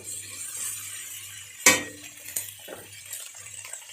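A lid set onto a pot of cooking eggplant in a quiet kitchen: one sharp, ringing clink up close, followed by a couple of small taps.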